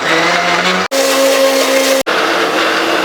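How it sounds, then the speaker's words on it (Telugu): A kitchen mixer blender whirs loudly while blending muskmelon juice with frozen milk, a steady high-pitched motor whine cut by two brief stops where the pitch shifts between bursts. "సో ఇక లేట్ చేయకుండా మిక్సీ పెట్టేద్దాం."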